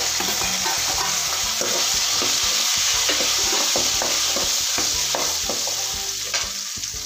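Small shallots sizzling steadily in hot oil for a garlic kuzhambu curry, stirred with repeated scraping strokes in the pan, close and continuous, with no talk.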